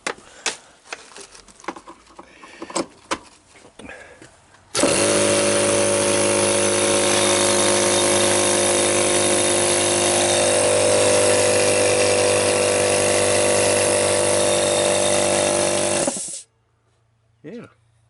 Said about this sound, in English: So we got a compressor.